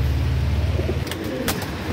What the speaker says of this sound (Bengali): এ দেখুন আর একটা ম্যাড্রাস জেনারেশনের ছোট ঠোঁট, শর্ট সাইজের পায়রা, নর আছে কিন্তু